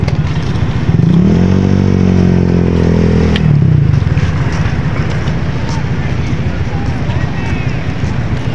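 A motorcycle rides off a passenger boat in Romblon, its engine revving up in a rising drone and then settling. Loud chatter, footsteps and clatter surround it as people talk throughout.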